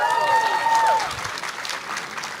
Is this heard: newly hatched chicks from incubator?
no